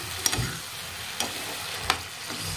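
Tomato masala frying in a pan for macaroni pasta, stirred with a few soft scraping strokes over a low steady sizzle, close and quiet.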